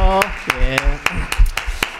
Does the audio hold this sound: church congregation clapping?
yes